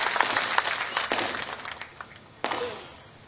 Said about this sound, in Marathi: आपण सर्वांनी मिळून एकदा देवेंद्र फडणवीस साहेबांसाठी टाळ्या वाजवून